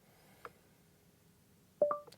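A Volvo XC60 Recharge running Android Automotive gives a short, clear two-note electronic activation tone for its voice assistant, near the end and preceded by a faint click from the steering-wheel button.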